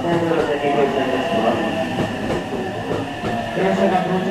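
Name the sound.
JR West Biwako Line train arriving at station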